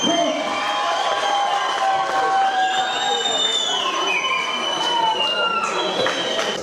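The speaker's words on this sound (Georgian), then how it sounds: "ისევ დამჭირდება თქვენი მხურვალე აპლოდისმენტები ანსამბლი ჰერულას დასამხნელებლად" Concert crowd in Tsinandali cheering and clapping for the ensemble Herula, loud and sustained with whoops and shouted voices over steady applause.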